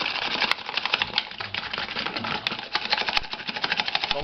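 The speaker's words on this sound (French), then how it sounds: "Donc vous montez vos blancs en neige." Egg whites are beaten into stiff peaks with a hand whisk in a bowl, giving a fast, steady, rhythmic rattling and clicking that carries on unbroken and close.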